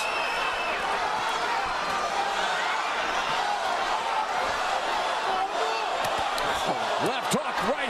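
A partisan boxing crowd roars continuously around the ring, a dense wash of cheering with whoops and a few sharp impacts near the end, while commentary runs over it.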